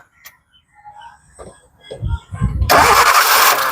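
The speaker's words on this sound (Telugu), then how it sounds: "సింగిల్ సెల్ఫ్లో బండి స్టార్ట్ అవుతుంది" A 2012 Maruti Swift Dzire VXi petrol car engine cranks briefly and catches on a single starter turn, then settles into a loud, steady running roar, preceded by some quiet speech.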